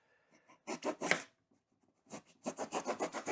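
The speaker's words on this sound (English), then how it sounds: "You have to make sure you do that sawing motion though." Rhythmic back-and-forth rasping of a Canary box cutter blade sawing through material, close up, in two runs of quick strokes separated by a brief pause.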